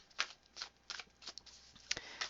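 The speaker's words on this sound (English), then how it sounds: "let's shuffle up for each sign" Tarot cards shuffled by hand in a quiet room, a run of soft riffling bursts with short pauses between them, fairly close and faint, with no talk.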